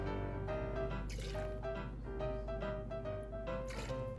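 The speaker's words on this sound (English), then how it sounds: "2 ounces of ruby red grapefruit juice" Ruby red grapefruit juice is poured into a Paloma cocktail with tequila, making close splashing, dripping liquid sounds that run for several seconds without talk.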